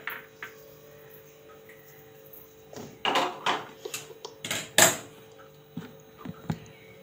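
Roasted peanuts scraped and tipped from a pan onto a plate, a cluster of sharp clattering scrapes and knocks coming in bursts, close and moderately loud between quiet pauses.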